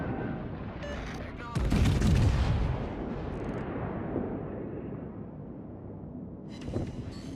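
Naval gunfire from battleships in the World of Warships video game, heard as a continuous rumble of booming salvos with a heavy burst near the start and another later, overlaid by steady game noise.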